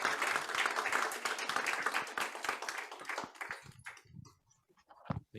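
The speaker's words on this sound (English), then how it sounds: "let's give him a round of applause" An audience applauds a visiting consul general at a club meeting. The clapping is dense and steady, then thins to a few scattered claps and fades to near silence. No one speaks.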